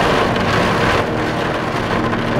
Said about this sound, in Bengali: ভীষণ বৃষ্টি হচ্ছে বাইরে